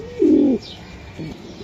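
A grizzle racing pigeon coos nearby, one loud rolling coo followed by a softer, shorter one, with no one talking.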